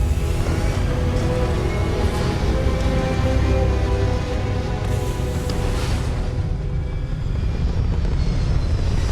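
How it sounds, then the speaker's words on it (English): A spaceship lifting off in the video game Starfield, a loud continuous rumbling engine roar with a broad hiss, steady throughout and easing slightly in brightness partway through. "We have liftoff."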